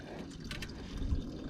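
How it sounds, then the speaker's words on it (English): Water splashes and trickles from a natural waterfall beside a trail in the Rocky Peaks area of California, a short, close, fairly quiet rush with no talk. "we got a natural waterfall"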